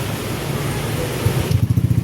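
A Yamaha Aerox V3 scooter starting: steady close rumble and hiss, then the engine catches and settles into a fast, even putter of idle pulses.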